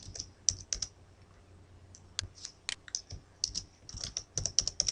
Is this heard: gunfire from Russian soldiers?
no